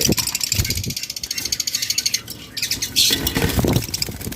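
Pet budgerigars kept in pairs for sale squawk and chirp rapidly and continuously at close range, with a dense run of sharp, repeated calls.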